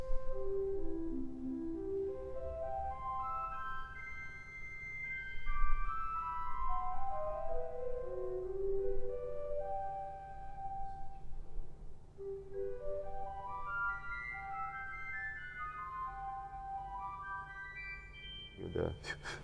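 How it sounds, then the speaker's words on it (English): Harmonic flute and piccolo stops on a 2020 Casavant Frères pipe organ in a church, playing bright, rising and falling runs of quick high notes, fairly soft, with a low steady hum beneath. "So we have 2 harmonic flutes. So there's a harmonic flute 4 and the piccolo."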